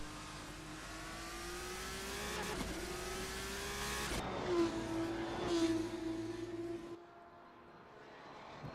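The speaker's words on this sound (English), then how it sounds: "That's Dan Johnson going past right there with a lot of speed." Race car in a championship race in Tunis speeding past, a rising then fading engine roar with a brief high whine, moderately distant, before the sound drops away.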